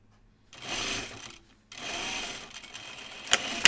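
Sewing machine stitching along an anorak seam, two bursts of whirring stitching separated by a brief pause, fairly close, ending with a sharp click.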